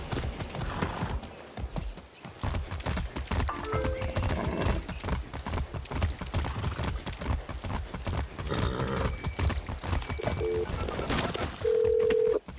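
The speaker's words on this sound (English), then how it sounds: "A magic horse." A horse in Far Cry 6 clip-clops at a steady gait, its hoofbeats loud and rhythmic, with neighs and whinnies breaking in along with a few short game interface tones.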